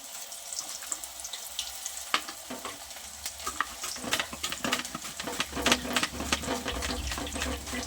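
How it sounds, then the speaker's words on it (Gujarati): Thin raw banana wafer slices drop into hot oil for crisp chips, a continuous bubbling sizzle with irregular sharp crackles and clinks growing busier toward the end, close and without speech. "આ રીતે પાડી લઈશું ડીશમાં અને તેલમાં ઉમેરતા જઈશું."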